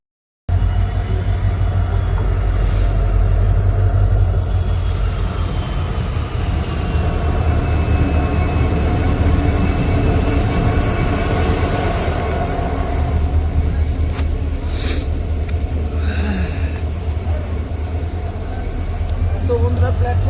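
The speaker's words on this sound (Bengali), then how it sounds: "বন্ধুরা ট্রেনে উঠে পড়েছি" Train rolling steadily with passengers aboard, a loud continuous low rumble of wheels on rails with a sustained high wheel squeal and occasional clanks throughout.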